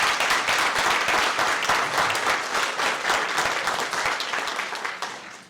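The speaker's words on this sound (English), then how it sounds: "I'd like to give all the contestants a great big applause" Crowd at a statewide Lions speech contest gives the contestants loud, dense, sustained applause that stays full before tapering off at the very end.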